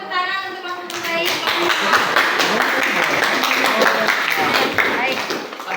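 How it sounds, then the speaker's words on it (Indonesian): Classmates clap for the best group in a school physics lesson, a burst of quick, close, irregular hand claps that starts about a second in and keeps going, with a teacher's voice heard at the start. "kelompok 5 silakan tepuk tangan untuk kelompok terbaik"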